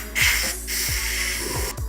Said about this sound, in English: Load up the gun with the black one.